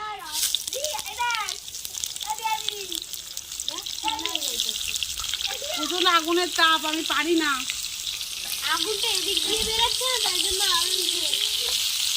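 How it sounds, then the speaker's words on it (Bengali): Cauliflower frying in oil in a pan on a smoky clay stove, a steady hiss and crackle running under a woman's ongoing speech. "এই আলুটা এখন ভাজা নামিয়ে আমি আবার ফুলকপিটাও ভাজবো"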